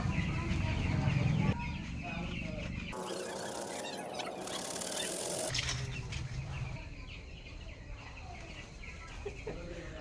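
Broiler chickens on a poultry farm at day 17 cluck and call in a flock chorus, fairly loud and continuous, with a louder stretch of activity partway through and other farm noise mixed in.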